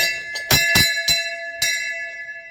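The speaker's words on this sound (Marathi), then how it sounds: "हे घंटा वाजवताना" A metal temple bell at the Nageshwar Shiva temple is struck four times in an uneven rhythm, each clang ringing out in a bright, sustained tone that slowly fades, close by and loud with no talk.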